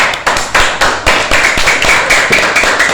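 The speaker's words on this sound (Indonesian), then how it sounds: "Lumayan, tepuk tangan dong" Classroom of sixth-grade pupils clapping together in a fairly regular rhythm, a series of sharp, loud claps close by with little talk.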